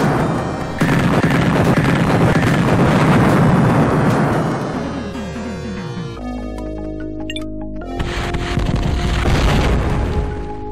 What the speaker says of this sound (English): Nuclear missile launch.